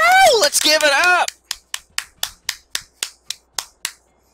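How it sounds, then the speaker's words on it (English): In Borderlands 2, a voice speaks first. About a dozen slow, evenly spaced single claps follow as a sparse golf clap, each one crisp and distinct against silence. "I don't know if you guys could hear that golf clap."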